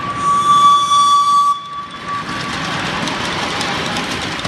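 Locomotives run in a railway yard; a loud high whistle-like tone sounds for about a second and a half, then gives way to a steady rumbling engine and rail noise.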